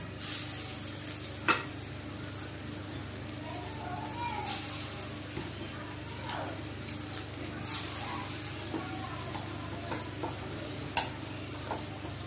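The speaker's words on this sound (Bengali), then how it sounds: "আমি এবার বড়াগুলো ভেজে নেব। একটু কম আঁচে ভাজতে হবে যাতে সবটাই ভালোভাবে" Banana flower kofta fritters frying in hot mustard oil over low heat, a steady soft sizzle with occasional clicks and stirring taps at moderate distance, with no voices.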